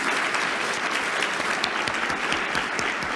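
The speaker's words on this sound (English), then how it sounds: "I want you to give yourself a hand of applause" A room full of mothers at a community health event applauds themselves, continuous enthusiastic clapping filling the space, close and steady without pause.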